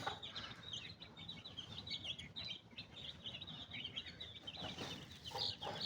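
A mother hen feeding her chicks keeps up soft, repeated clucks mixed with high peeping chirps from the chicks, all fairly quiet and continuous over a low background rumble.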